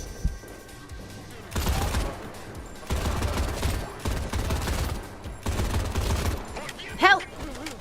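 Video game gunfire crackles in several rapid bursts of shots, loud and close, separated by short pauses, with a voice talking over part of it.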